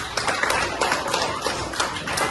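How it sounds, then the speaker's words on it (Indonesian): A small group of students in a classroom claps together in a quick, steady rhythm for a couple of seconds, fairly close and with no talking. "Tepuk tangan."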